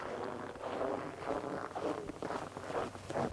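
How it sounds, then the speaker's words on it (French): Footsteps crunch on snow in a Swedish dog-sledding setting, a steady rhythm of close, soft crunches heard over wind and outdoor noise, with no talking. "Ce que j'adore par-dessus tout, c'est le bruit du craquement sur la neige."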